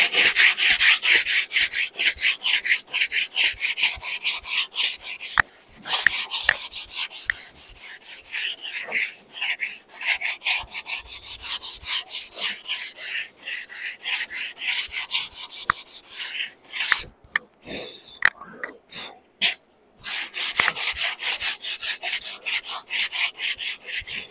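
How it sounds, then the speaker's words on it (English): Rapid back-and-forth scraping of a sanding sponge on a live edge wooden serving board, a rhythmic rasping stroke pattern with a few short pauses. "do a sanding sponge on it and see how it looks."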